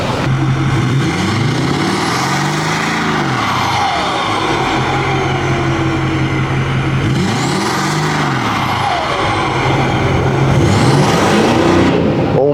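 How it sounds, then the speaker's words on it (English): A 6.4 diesel pickup truck engine revs up twice, each time sweeping upward in pitch and falling back to a loud, rumbling idle, heard close and steady throughout. "but I'm gonna rev it up for you guys."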